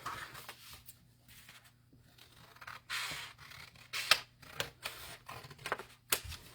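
Scissors snip through craft flower petals in a series of short, crisp cuts, sparse at first then quicker, close and fairly quiet against a faint hum.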